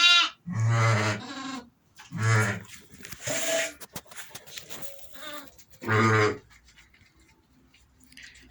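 Large lambs bleat repeatedly at close range, several loud wavering calls separated by short pauses, with some rustling in between.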